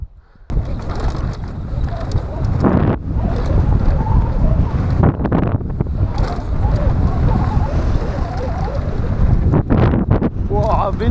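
Strong wind at Racepark Schulenberg bike park roars and buffets the microphone almost continuously, with brief gusty dips, loud and close.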